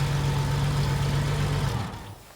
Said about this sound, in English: It's running, it's idling smoothly.